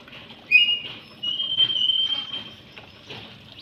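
Sparrows chirping while they drink water, with short bright high-pitched chirps and light pattering nearby, fairly close and alone without talk.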